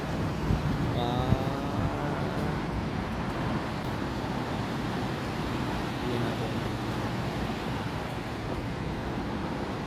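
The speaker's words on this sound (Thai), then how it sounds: "เสียงลมดังเลยเด้อครับผม" Steady broadband wind rush at a Thai train stop as a train approaches fills the whole stretch, a constant roaring blow with faint background rumble and no clear talk.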